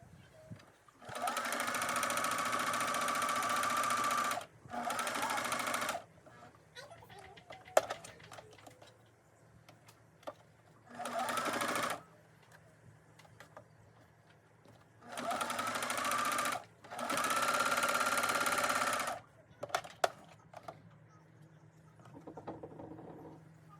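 A regular domestic sewing machine runs a zigzag hem on knit fabric in five distinct whirring bursts of a few seconds each, separated by quiet pauses, close and clear.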